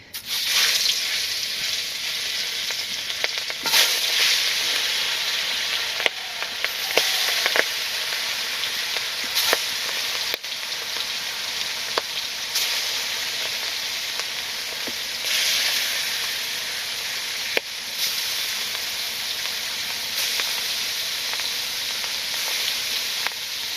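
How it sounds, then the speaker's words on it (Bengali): Fish frying in hot oil in a home kitchen, a loud steady sizzle with crackling pops running throughout, no talking. "এখন মাছ ভেজে নেই"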